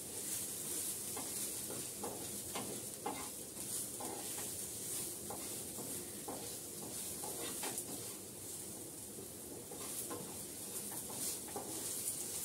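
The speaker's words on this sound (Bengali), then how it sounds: "এটা হচ্ছে একটু নাড়াচাড়া করে এটা নামিয়ে ফেলবো।" Food is stirred in an oil-filled frying pan with masala over a gas flame, a constant hissing sizzle carrying faint, regular scraping strokes that repeat about once a second, fairly quiet and close.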